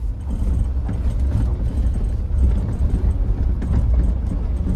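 A 2022 Mahindra Thar petrol automatic climbs a rough road, its engine a steady, loud low rumble with rattling and knocks from the bumpy surface throughout.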